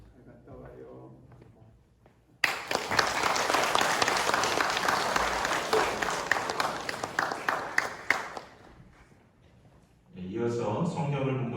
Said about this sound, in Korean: 전달할 때 뜨겁게 축복의 박수 해주시기 바랍니다.